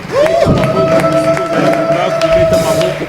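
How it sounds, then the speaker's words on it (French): A church congregation cheers and acclaims the Lord with loud, lively crowd shouting, a sustained ringing tone running through it, and scattered claps and noise. "On acclame le Seigneur."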